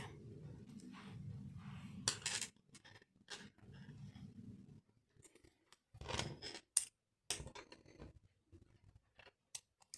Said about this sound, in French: je coupe mon fil